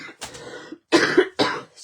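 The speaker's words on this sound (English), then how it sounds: "Apologies for the coughing" A few harsh, close coughs: one short cough, then a longer hacking burst and a final cough, with brief quiet gaps between them.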